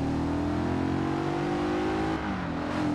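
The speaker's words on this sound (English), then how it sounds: "That's one thing Audis of late have had on the mark, is the sound of their V8s." Audi V8 engine in Forza Horizon 2 revving steadily at high rpm, loud and close, with a gear change dropping the pitch briefly before climbing again.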